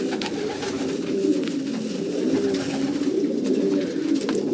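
Pigeons coo continuously and close by, their soft, throaty calls overlapping against a steady background murmur with no speech.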